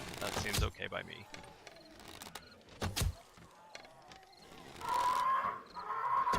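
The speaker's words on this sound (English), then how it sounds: "I hear you, bird." A bird calls in the survival video game 7 Days to Die with short chirping bursts amid clicks, thumps and game noise, and someone talks throughout.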